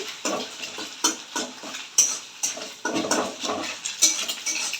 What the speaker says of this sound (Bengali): এবার কমতি দিয়ে কুটিয়ে কুটিয়ে নিলাম